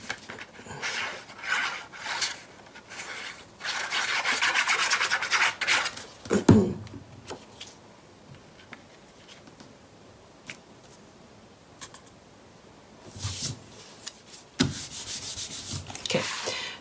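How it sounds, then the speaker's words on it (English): Paper being burnished into place on a scrapbook page, with bursts of dry rubbing and scraping strokes separated by quieter pauses, close and fairly soft. "I'm going to go ahead and burnish that into place"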